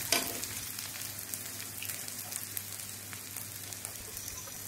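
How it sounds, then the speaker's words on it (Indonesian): Spices sauté in palm oil in a pan for capcay, giving a continuous soft crackling sizzle, close but quiet, with no talking. "menumis bumbu-bumbu di awal ini cukup menggunakan minyak dari palm ya, dari minyak sawit, minyak sayur"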